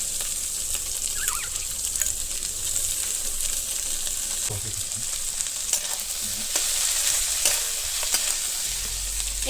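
Mutton mince and pointed gourd pulp fry in a pan, a steady close sizzle with occasional scraping stirs throughout.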